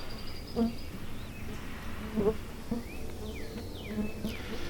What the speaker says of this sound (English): it's like buffalo gnats